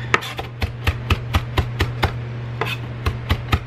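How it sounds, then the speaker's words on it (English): A knife chops cilantro on a cutting board in a quick, even series of sharp, close taps, about a dozen strikes with a short pause partway through, over a low steady hum. "So now I'm just going to cut up some of the cilantro."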